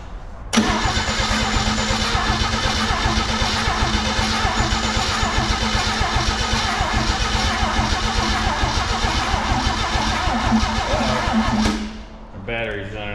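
A Nifty 250 straight-six turbo engine cranks over loud and close in a long, steady churning run of about eleven seconds without catching. Then it cuts off abruptly, leaving quieter background sound.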